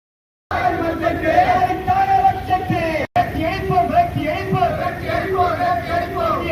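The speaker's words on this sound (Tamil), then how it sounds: "ஐம்பதுக்கும் மேற்பட்ட விவசாய சங்கத்தினர் கண்டன கோஷங்களை எழுப்பினர்" A crowd of farmers at a protest shouts slogans together, a loud, continuous mass of raised voices that cuts out for a split second midway before surging back.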